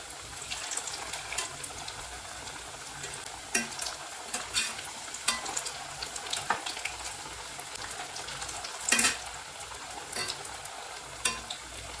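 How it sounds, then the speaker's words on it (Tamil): Onion vada deep frying in hot oil over a medium flame, a continuous loud bubbling sizzle with occasional sharper crackles and splashes as the fritters are turned. "இந்த பக்கமும் நல்லா ஃப்ரை பண்ணி எடுத்துக்குவோம்."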